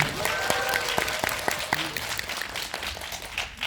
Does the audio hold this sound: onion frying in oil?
no